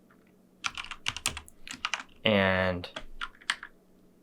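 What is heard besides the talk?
typing code on a computer keyboard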